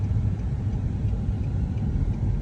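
A car reverses slowly through a parking area, its engine a steady low idling rumble close by throughout with no other clear sounds.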